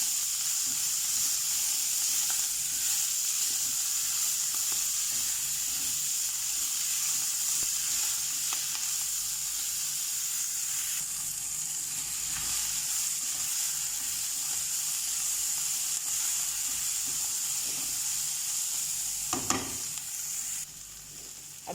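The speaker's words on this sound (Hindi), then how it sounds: "अब इसमें हम मेथी चॉप किया हुआ ऐड करते हैं। अब इसे मिक्स करना है।" Chopped fenugreek leaves are mixed into sizzling masala, a long steady frying hiss with soft repeated stirring scrapes and one louder clatter of the spoon near the end.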